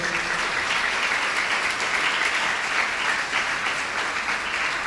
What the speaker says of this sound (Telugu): చప్పట్లు కొట్టండి గట్టిగా